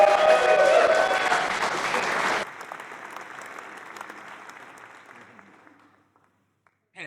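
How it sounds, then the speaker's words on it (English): A crowd at a launch event applauds loudly for about two and a half seconds, then the clapping thins to scattered claps that fade to near silence, with a faint sound at the very end. "Can we get a round of applause for Jack Fife, our wonderful MC?"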